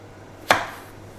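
A single sharp knife chop cuts food in half against a cutting board, one crisp close thud with no voices around it.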